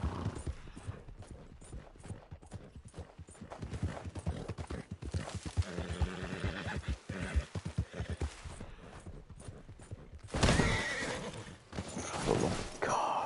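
A horse in an open-world video game trots with steady rhythmic hoofbeats, then neighs loudly, while a player talks over the game audio.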